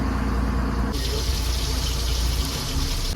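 Water runs steadily from a tap or jug into ground coconut while curry is being made, a continuous close splashing gush that grows brighter and louder after the first second and keeps flowing to the end.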